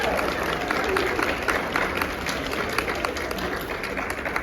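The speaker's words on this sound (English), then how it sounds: "Girls, you can clap." Applause from a group of girls at a school board of education meeting, steady dense clapping for several seconds in an indoor room, with some murmuring voices underneath.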